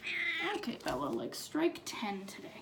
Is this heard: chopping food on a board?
no